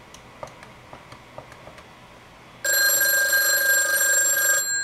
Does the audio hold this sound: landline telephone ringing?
yes